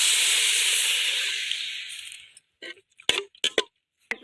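Water poured into a hot pan for a Tamil home-cooked dish, a loud steamy hiss that fades over about two seconds, followed by a few sharp clinks and taps of a utensil.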